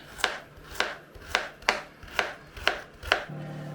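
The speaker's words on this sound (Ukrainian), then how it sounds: "Моркву нарізаю ось так на четвертинки." Seven sharp knife chops through a carrot on a cutting board in an even rhythm, close and crisp, with no voices.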